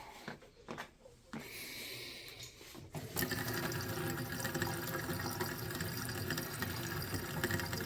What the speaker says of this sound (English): Let me just run some water through it.